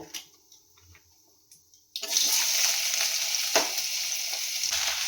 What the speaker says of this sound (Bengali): তেলটা গরম হয়ে গেছে, আমি 5 ফোড়ন দিয়ে দিচ্ছি তরকারি।